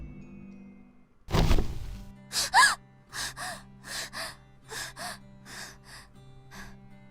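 A sharp gasp on waking from a nightmare, loud and sudden, followed by a series of shorter breathy, shaky inhales and exhales at close range.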